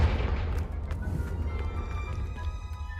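A Confringo fire spell blast goes off in a Hogwarts video game, a loud booming burst at the start that rumbles and fades over a few seconds into a low hum and faint chimes.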